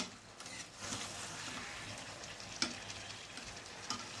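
Potatoes are stirred into a frying chicken curry in a pan, a soft continuous sizzle with scraping strokes of a spoon and a couple of sharp clinks against the pan, fairly quiet and without talk.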